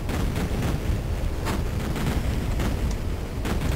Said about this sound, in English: This place has a terrible case of explosions.